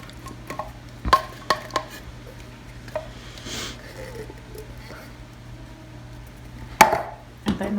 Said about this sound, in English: going to add a can of cherry pie filling. We will add this to the cake mix.